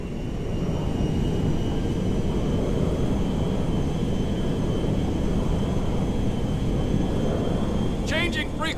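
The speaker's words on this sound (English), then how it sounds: "Ronnie, the cargo jet is now part of the TP Enterprise fleet." A cargo jet in Grand Theft Auto V roars with a steady, dense engine rumble that stays loud and even throughout, and a brief radio-like chirp is heard near the end.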